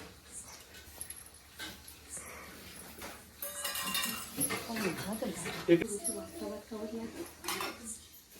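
Dishes and cutlery clink and rattle during washing, with people talking over the clatter and a dog whimpering now and then.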